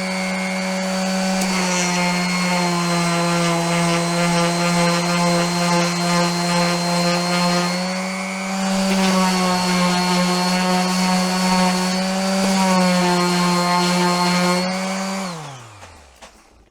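A Stanley electric sander whines at a high, steady pitch at maximum speed, holding strong with a brief dip midway before winding down abruptly at the end.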